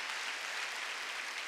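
A congregation applauds during a Wednesday worship service at a church: a thick, continuous roar of clapping at a steady, fairly loud level, with no voices standing out above it.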